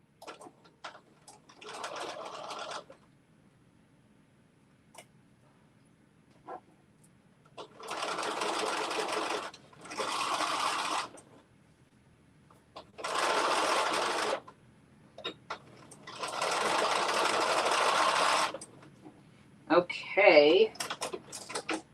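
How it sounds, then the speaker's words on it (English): A domestic sewing machine stitches a seam in several separate bursts of rapid mechanical chatter, separated by quiet pauses, fairly close; a voice speaks briefly near the end. "So we are stitching together at 5/8 of an inch Seam allowance."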